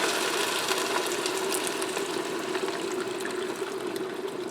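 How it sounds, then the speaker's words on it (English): Beef broth pours steadily into a hot pot for pot roast French onion soup, a continuous, fairly loud liquid rush with a faint sizzle beneath it and no break throughout. "I'm going to put some beef broth in there. I'm going to add in 8 cups of beef broth."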